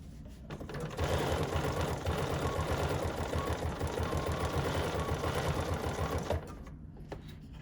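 Up close, a sewing machine runs a straight stitch around a small appliqué berry on a fabric notepad holder, one continuous even whirr lasting several seconds before it stops.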